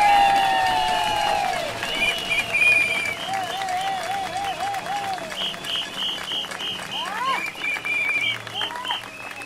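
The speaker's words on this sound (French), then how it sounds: "on applaudit, merci beaucoup." Applause from the audience at a citizens' rally and information meeting in Saint-Denis, Réunion, sustained crowd clapping mixed with whistles and cheers, carrying on under talk and background noise.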